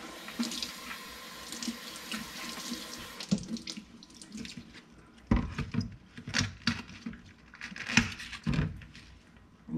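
Hot water runs from a faucet into a sink that had been slow to drain, a steady splashing stream that turns into louder irregular splatters and knocks as it hits the basin.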